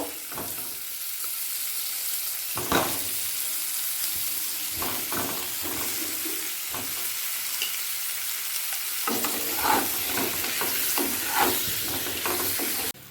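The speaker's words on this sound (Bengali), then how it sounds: "আলুগুলোকে সোনালি করে ভেজে তুলে নেব" Potatoes fry in hot oil with turmeric in a pan, giving a steady sizzle and hiss with occasional stirring scrapes and clinks, close and continuous without any talk.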